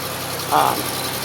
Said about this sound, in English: as you can hear, the motor's running pretty damn good